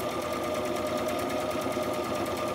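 A sewing machine running a straight stitch on fabric scrap ribbons for journal ties, its fast steady needle chatter continuous and close throughout.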